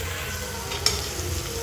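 A coarsely ground mixture being sautéed in a pan before okra goes in, a soft steady sizzle with a single sharp spatula tap partway through, no voices.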